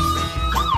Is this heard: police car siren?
yes